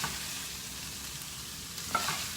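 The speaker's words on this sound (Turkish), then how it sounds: "kavurunca biraz fazla kavuruyorum ben kıymayı" Ground beef mince being browned in a pan for karnıyarık, a steady quiet sizzle with faint stirring scrapes and a small spatula clink near the end, no talk.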